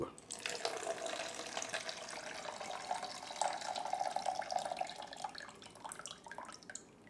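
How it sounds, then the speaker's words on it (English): Liquid pours steadily out of a Unicolor film developing drum through its funnel, a continuous close splashing stream running for about seven seconds with no talk. "Measuring the unicolor drum, pour out time is 3, 2, 1, go."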